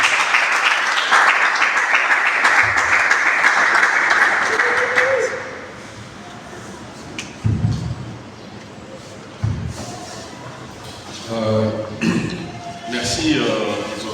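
At a conference on including women with albinism, the audience bursts into loud, dense applause that fades after about five seconds. Scattered thumps and a speaker's voice follow.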